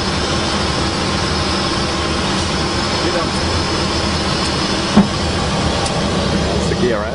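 Airliner cabin on final approach into Bhutan, about 4,000 feet above the runway, with the landing gear extending: a steady, loud broadband engine and airflow roar with a brief thump partway through, and talk over it.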